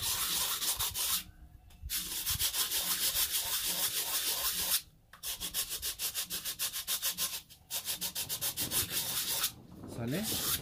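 A cement planter is sanded by hand using a small wooden block, giving fast, rhythmic raspy scraping strokes, loud and close, broken by a few short pauses.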